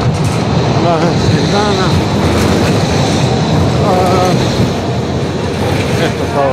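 A tram passing on a city street near Ban Jelačić Square produces a loud, rolling rumble with faint metallic squeals as it goes by, with a person speaking over it.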